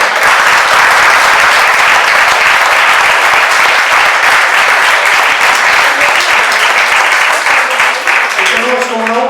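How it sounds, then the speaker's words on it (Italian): Conference audience at a meeting on brain and spinal cord trauma breaking into loud, sustained applause, a dense steady roar of clapping that runs on as a voice starts over it near the end. "quindi grande applauso."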